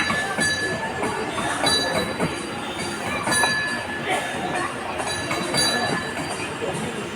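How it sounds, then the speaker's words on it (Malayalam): A small train at an agricultural theme park rolls in with a steady rumble and clatter, a thin ringing tone running over it throughout, and faint voices in the background. "ഇതാ നമ്മുടെ ട്രെയിൻ വന്നുകൊണ്ടിരിക്കുകയാണ് കേട്ടോ. ട്രെയിൻ ബെല്ലൊക്കെ അടിച്ചിട്ടാണ് വരുന്നത്."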